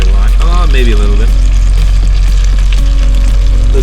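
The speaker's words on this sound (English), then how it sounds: "Listen to that sizzle." Food sizzles inside an air fryer with a loud, continuous hiss over a steady low hum, and a voice speaks briefly at the start.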